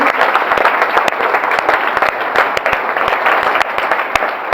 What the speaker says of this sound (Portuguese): Pode dar um aplauso ao Senhor no nome de Jesus.